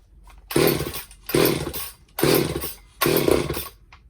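Four short revving bursts in a row come from a Craftsman chainsaw engine after a carburetor rebuild, each loud and close, with brief quieter gaps where it drops toward idle.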